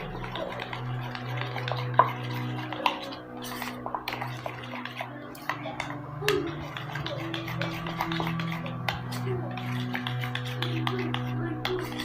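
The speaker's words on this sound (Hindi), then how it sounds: "इसको डाल के हमें अच्छे से अब मिक्स कर लेना है।" A spoon stirs paratha sauce seasoned with black pepper in a bowl, giving repeated light clinks and scrapes against the dish at an irregular rhythm, close and clear over a steady background.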